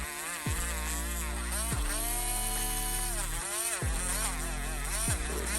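A small electric drill whines steadily, its pitch dipping sharply several times as it bites into polymer clay earrings, close and continuous.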